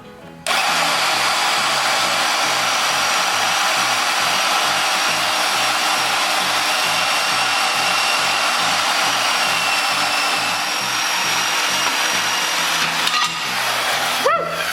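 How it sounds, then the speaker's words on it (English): A handheld bandsaw runs steadily close by on a 1958 Wheelie Horse RJ58 custom resto-mod project, a loud sustained whining motor drone with faint rhythmic ticking underneath that stops near the end. "I got my handheld bandsaw, and this thing plays a lot of tunes because it's a bandsaw"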